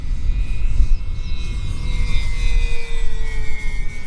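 A Dynam Tucano radio-controlled model airplane with a 4S battery flies in gusty crosswind, its electric motor whine steady and moderately distant over rumbling wind noise, with the pitch drifting as it passes.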